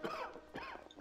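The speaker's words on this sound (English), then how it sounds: "But every so often you can cough." A video game character lets out a short cough, repeated in a couple of quick bursts over about a second, sitting clearly in the foreground with no talking.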